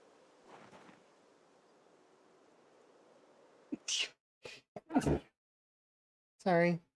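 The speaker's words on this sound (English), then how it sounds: "Sorry, sneezed." A single sharp sneeze bursts out near the microphone over low background hiss, followed by short vocal sounds and a brief voiced syllable.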